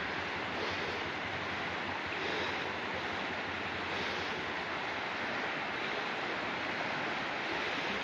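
Rushing flash flood water at Thap Salao reservoir near a suspension bridge, a continuous broad roar of churning water heard steadily throughout with no talk.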